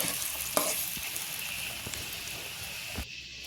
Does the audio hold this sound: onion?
yes